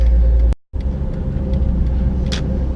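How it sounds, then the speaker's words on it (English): A stock automatic Honda Civic EK3 hatchback with a 1.5-liter D15 engine drives through Tokyo, heard from inside as a steady low cabin drone with a brief dropout near the start. "I'm driving an EK3 hatchback Civic"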